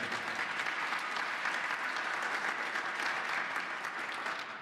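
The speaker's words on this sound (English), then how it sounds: "how about a round of applause for all the effort she's done?" Audience at a quarterly membership lunch applauding a departing city councilwoman, dense sustained clapping from many hands that stays loud and even before tapering slightly at the end.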